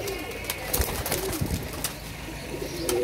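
Pigeons cooing on a rooftop loft, soft repeated throaty coos close by, mixed with small rustles and a faint bit of background voice.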